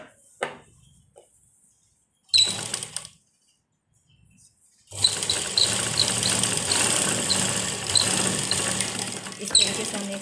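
A sewing machine stitches along the folded top of a blouse pocket, short bursts of close mechanical whirring and then a sustained steady run, with pauses between them.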